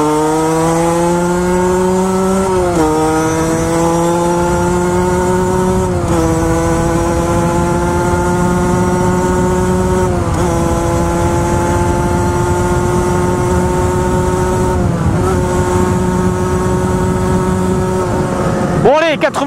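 A Derbi GPR 50cc moped with a Conti exhaust screams at high revs on a top-speed run, a loud buzzing whine that dips briefly at each of several gear changes, then climbs again.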